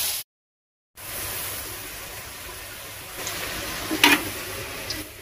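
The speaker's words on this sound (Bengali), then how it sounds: "এবার আলুটা লাল করে ভাজা হয়ে গেছে।" Potatoes frying in a pan in a village kitchen until reddened make a steady, moderate hiss of hot oil, with a few light clatters near the end.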